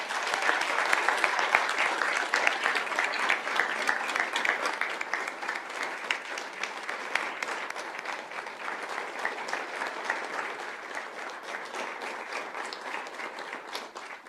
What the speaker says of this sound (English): If you'd please join me in another big round of applause.